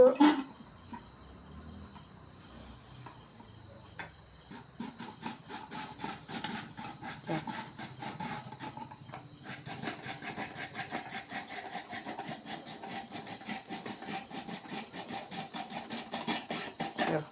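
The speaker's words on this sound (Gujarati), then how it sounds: "આખું બટેટ ખમણાઈ ગયું" Whole potatoes are grated into wafer slices on a grating machine like a shaved-ice machine, giving a steady run of rapid, rhythmic scraping strokes over a thin high whine, close and moderately loud after a quieter start.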